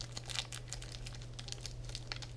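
Tough plastic packaging of a Grossery Gang Sticky Soda can toy being torn and pulled open by hand, giving a steady run of close crinkling and crackling with no talking.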